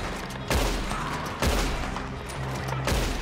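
Gunfire in Red Dead Online, a Western shooter game: three heavy, booming gunshot blasts about a second apart over a steady, noisy game background.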